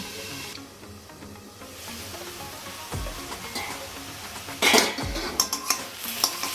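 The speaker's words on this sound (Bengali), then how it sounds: "এবার আমি ঢাকনা তুলে নেড়ে চেড়ে লঙ্কাগুলো দিয়ে দিলাম।" A pot lid lifts with a metallic clank, then a spoon stirs ash gourd curry (Bengali chal kumro ghonto) in the pan. Scraping and clinking repeat nearby over a soft cooking hiss, with no talk.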